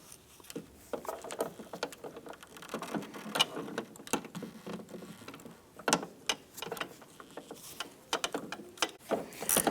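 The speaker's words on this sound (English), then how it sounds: "I'm going to go ahead and lower our bolt down." A ratchet working a headlight bracket bolt on a Ram 1500 pickup gives quick runs of close, crisp clicks with short pauses between strokes. The clicks are fairly quiet, with no talk.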